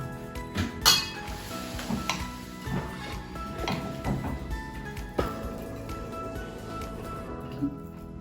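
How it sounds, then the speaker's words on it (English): Chili base and mashed beans being mixed together in a bowl, with a spoon knocking and clinking against the dish in irregular taps and scrapes, close and moderately loud. "we're gonna mix with this chili base and then mashed beans all together"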